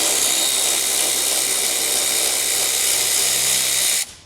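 A power tool, likely a drill or impact driver, works on a hidden 10mm bolt beneath the headlight of a Tesla Model Y Juniper, a steady loud whir running about four seconds before cutting off abruptly.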